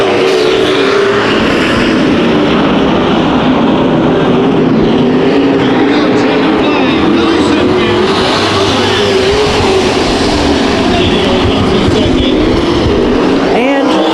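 Pro Stock race cars in an 8-lap heat race at Santa Maria Raceway, a constant loud engine roar from the pack circling the track, with an announcer talking over it throughout.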